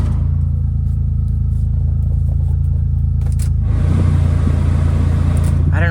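A car engine idling in an Osaka car yard, a steady low rumble that persists throughout, with a shift in tone partway through and some faint clatter near the end, no speech.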